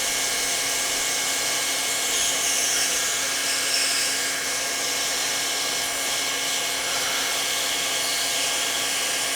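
VEVOR 1600W hot air plastic welder fan running, a steady close whooshing blower hiss with a faint whine, unbroken and even in level, no voices.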